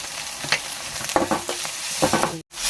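Chopped vegetables with tomato, coriander leaves, salt and turmeric fry in oil for a Sankranti festival dish, a steady close sizzle broken by several scraping stirs and one brief dropout near the end.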